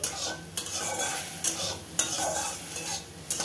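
Marinated chicken stirred with spices in a kadai: a spoon scrapes steadily around the pan with roughly one stroke per second, over a constant soft sizzle and no voices.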